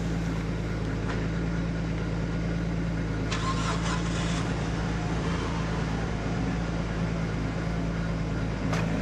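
A Nissan Skyline R33 GTS-T with a freshly fitted engine idles steadily, a continuous low engine drone with a brief mechanical rattle partway through.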